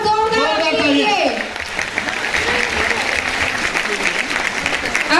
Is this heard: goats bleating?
no